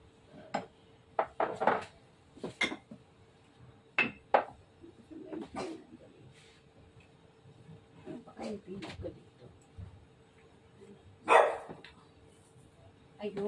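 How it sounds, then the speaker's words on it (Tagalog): A dog barks in short, scattered bursts, some close and sharp, amid dish clatter and people talking in the background while buko salad is made. "ang aso namin tumatahol"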